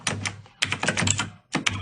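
Fingers type on a computer keyboard in quick bursts of crisp, close clicking keystrokes separated by short pauses, with no speech.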